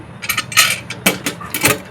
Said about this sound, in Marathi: कुकरचं झाकण लावून